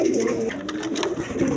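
White Shirting pigeons, a pair, cooing close by in a steady low rolling murmur that runs throughout, with faint rustling above.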